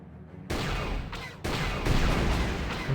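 Turret gunfire in the Knights of the Old Republic video game, two sharp blasts followed by sustained rumbling fire, close and fairly loud, with no speech.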